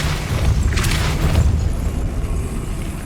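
Depulso spell blast in Hogwarts Legacy, a loud booming burst with heavy low rumble and a brief crackling flare, filling the short moment on its own.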